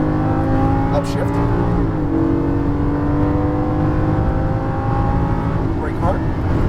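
Lamborghini Gallardo LP550-2 engine on a track, accelerating with a loud sustained drone and a shift in pitch as it upshifts, while an instructor talks over it.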